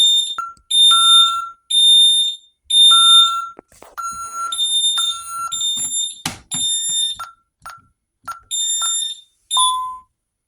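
An ADT SafeWatch Pro 3000 security alarm system sounds in loud, piercing electronic bursts, repeated beeping pulses in an uneven rhythm with brief gaps, close and alone without speech.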